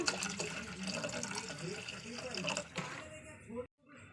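Water pours into a pot for Maggi noodles in a home kitchen, a steady close splashing fill lasting several seconds before cutting off abruptly.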